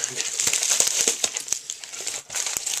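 Plastic crinkles and rustles as a bag is pulled open, a bright crackling texture with several sharp snaps, close and fairly loud.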